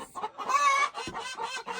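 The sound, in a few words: chickens clucking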